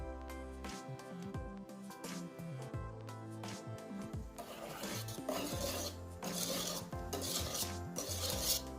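A spoon scrapes and stirs cake batter of eggs, sour cream and flour in a bowl, with repeated rasping strokes heard close up over steady background music.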